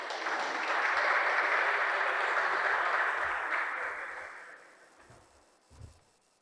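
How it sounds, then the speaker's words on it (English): An audience at a proclamation ceremony applauds a guest, dense sustained clapping that swells, holds for several seconds, then tapers off, with a few footsteps or knocks as it dies away. "If you can give him a round of applause."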